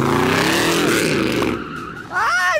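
A Porsche or Camaro drifting with a loud, close engine roar and tire noise that rise and then fade, before a wavering squeal lifts near the end.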